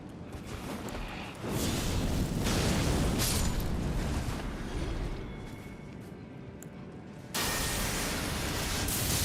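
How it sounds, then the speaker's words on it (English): A dungeon explosion in the video game Elden Ring, a dense broadband roar that swells after a beat, holds loud and rumbling for several seconds, eases slightly, then surges again near the end with no talk over it. "don't you like how little damage that explosion actually did?"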